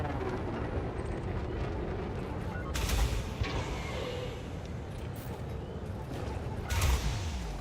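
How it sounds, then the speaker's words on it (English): Multi-cannon fire in the space combat game Elite Dangerous comes as rapid bursts of loud, booming shots against a constant engine rumble, with two heavier volleys standing out. "I should still be able to empty one full multi-cannon clip"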